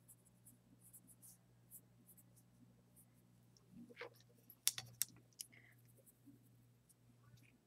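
A pencil draws a horizon line across sketchbook paper: faint, close scratchy strokes over a low steady hum, with a few sharper ticks and scrapes near the middle.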